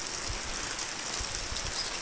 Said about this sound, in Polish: I tak oto opady deszczu pokrzyżowały moje plany dzisiejsze